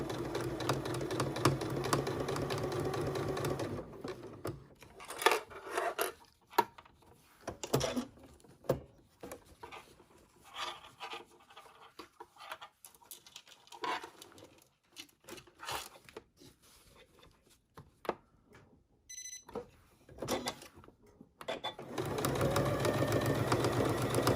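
A sewing machine fitted with a 1/4 inch foot stitches a zipper in several bursts of rapid whirring, separated by quiet pauses with small rustles, then runs steadily again at the end.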